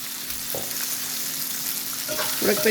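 Boiled chickpeas go into a hot tempering of reddened urad dal and red chillies and are stirred, giving a soft sizzle with a few scraping stirs near the start and a louder burst at the end.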